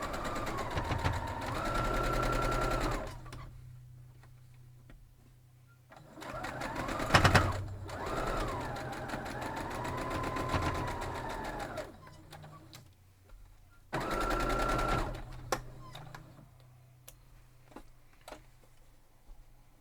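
A sewing machine stitches quilt block seams in three loud, rapid bursts of rhythmic mechanical clatter, with quieter pauses between them where a voice talks softly.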